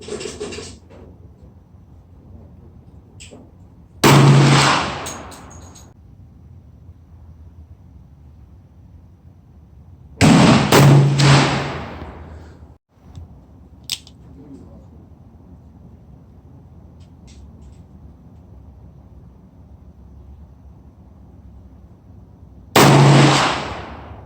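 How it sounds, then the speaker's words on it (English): Three sharp handgun shots from a large-calibre revolver or pistol (460 S&W, 357 Magnum or 10mm Glock) ring out outdoors, each a loud crack with a decaying tail, spaced several seconds apart over a low windy background. "Okay, I just took 3 shots"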